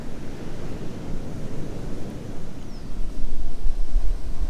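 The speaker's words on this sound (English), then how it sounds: "Sun's hitting those waves pretty well now." Ocean waves and surf roll onto the coast at Murchison Station near Kalbarri, Western Australia, a steady loud wash with wind buffeting the microphone and a heavier surge near the end.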